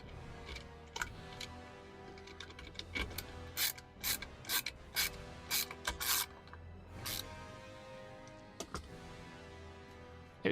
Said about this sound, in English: tighten this up the rest of the way so the motor doesn't drop down